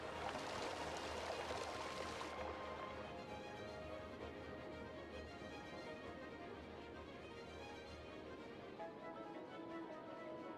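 Water flowing over the top of a structure in the city-building game Cities Skylines, a continuous rushing stream that stays steady and fairly loud, brighter and fuller at first before settling into a softer flow.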